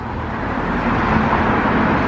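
Continuous low rumble of main-road traffic washes by a small graveyard, a steady broadband roar without distinct passes, no voices.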